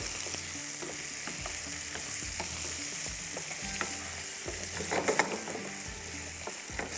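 Spices, tomato paste and green chili sizzle in a frying pan as they are stirred. A constant frying hiss runs throughout, broken by repeated rhythmic scraping strokes of the spoon, with no talking.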